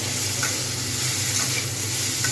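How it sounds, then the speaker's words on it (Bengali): Ridge gourd and potato pieces fry in oil in a pan, giving a steady close sizzle with faint scraping from stirring. "প্রত্যেকটা সবজি কিন্তু ভালোভাবে ভেজে নিতে হবে"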